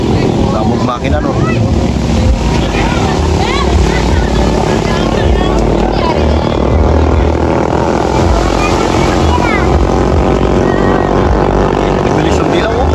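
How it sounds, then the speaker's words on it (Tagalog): Racing outboard boat engines roar steadily and loudly throughout a bangkarera boat race, mixed with wind buffeting and excited shouting from nearby spectators. "Makina no."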